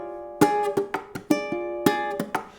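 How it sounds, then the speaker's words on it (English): Ukulele strumming a chord from a song with a slide into it, then a series of short percussive chord hits and muted strums in a syncopated rhythm, close and alone. "if I add one little slide"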